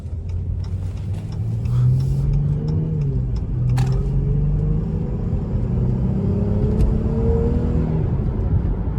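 A car engine rumbles and climbs in pitch as it accelerates, revving steadily up through the gears, close and loud with a few faint clicks.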